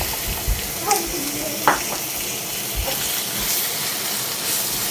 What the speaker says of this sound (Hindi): उस प्याज को आपने ऑयल के अंदर थोड़ा सा स्टिर फ्राई करना है